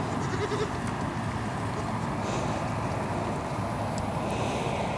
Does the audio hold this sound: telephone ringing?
no